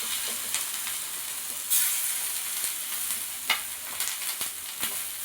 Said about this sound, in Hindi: और तवा में सेलो फ्राई करूँगी।